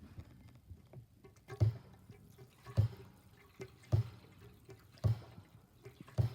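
Kerosene hand-pumped from a jug into a kerosene heater's tank, a soft liquid trickle with regular louder pump strokes about once a second, close and quiet.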